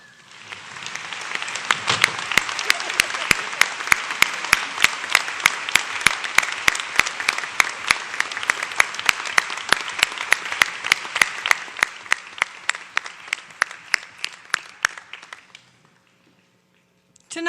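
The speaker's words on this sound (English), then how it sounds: "I invite the audience to join me in a round of applause" A large crowd at a college graduation ceremony claps loudly and steadily for over ten seconds, sharp individual claps standing out, before the applause fades to silence.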